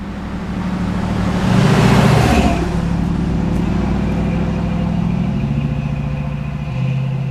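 A 1969 Camaro SS Pace Car with a 350-horsepower engine accelerates, a loud sustained low engine roar that swells briefly then holds steady, with no talking.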